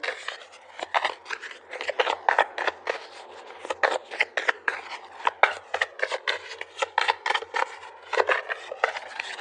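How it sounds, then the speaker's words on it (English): Tarot cards are shuffled and pulled with rapid papery riffles and soft clicks in an irregular, busy rhythm. The sound is close-up and moderately quiet and runs continuously throughout. "So let's pull a couple more cards"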